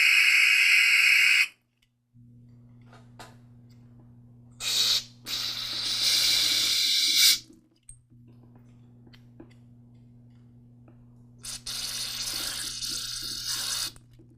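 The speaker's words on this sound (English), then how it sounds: "I insert the tip of the carb cleaner can into the opening, and then just run some carb cleaner through it." Carburetor cleaner sprays in sharp hissing bursts through the openings of a lawn mower carburetor body, several short blasts separated by quiet gaps with a low steady hum beneath.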